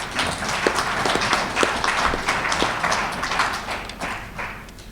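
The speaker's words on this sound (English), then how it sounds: "Let's give him a round of applause" Applause from an audience at an officers' mess dinner and award ceremony, a dense, steady round of hand clapping from many people that fills the room and tapers slightly toward the end.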